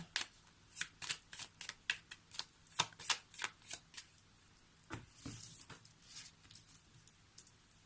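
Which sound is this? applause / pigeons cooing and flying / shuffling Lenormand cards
shuffling Lenormand cards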